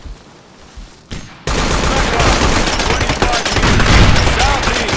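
Dense, loud automatic gunfire in the military shooter Operation Flashpoint: Dragon Rising, a continuous rattling fusillade after a brief quiet start, with no talking.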